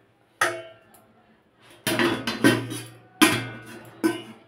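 A hot pan of semolina chhena poda sweet is set down and covered with its lid, giving a few sharp metallic clanks and knocks separated by short pauses, close and fairly loud.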